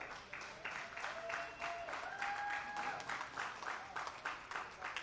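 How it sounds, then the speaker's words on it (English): Applause for under-17 girls bowlers at a Thunderbowl match-play round, steady clapping from a crowd throughout with a faint whistle tone drifting over it, moderately distant. "let's give these girls a huge round of applause that they deserve."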